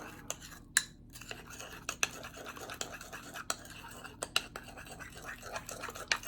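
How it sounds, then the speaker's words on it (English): Bentonite clay and apple cider vinegar are stirred into a face mask paste, giving soft, close scraping and clicking of the mixing tool in a quiet room, with irregular taps and scratches and no talking. "you want to mix out until you get all the lumps"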